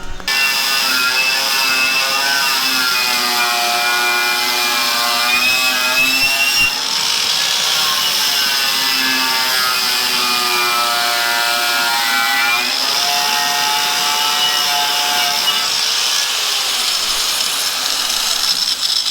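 A grinder strips old paint from a 1970s tractor, a loud, continuous metallic whine close by that rises and dips slightly in pitch as the tool bears down, running without pause.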